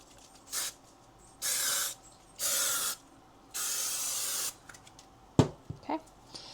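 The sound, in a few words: spraying adhesive spray onto a mat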